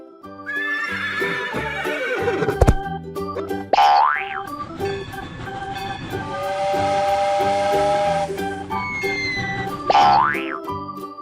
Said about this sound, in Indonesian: Itu adalah kuda.